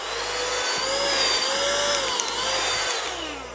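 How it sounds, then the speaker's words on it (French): A handheld suction and blower gun vacuuming, a loud continuous motor whine with a steady pitch that dips and recovers slightly, heard close up. "c'est tout simplement un pistolet qui aspire et qui souffle"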